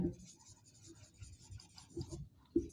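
Chalk or marker scratches and rubs across a board during a geography lesson on the planets, with short faint strokes and taps rising in a few bursts, quiet and close, with no talk over it.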